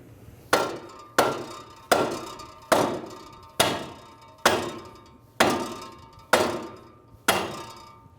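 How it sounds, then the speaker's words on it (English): Rubber mallet taps driving a lower control arm ball joint into the steering knuckle of a 2015-2019 Hyundai Sonata; eight sharp, evenly spaced clanging knocks, each ringing briefly before fading, close and alone without talk. "We're going to use that rubber mallet again. Just give it some taps"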